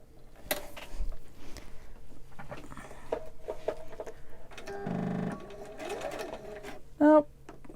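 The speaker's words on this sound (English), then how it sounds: "I'm just gonna zigzag it really quick." A sewing machine runs a zigzag stitch along a fitted face mask in short, quiet runs broken by handling noise, with one louder whirring burst near the middle and a brief sharp squeak close to the end.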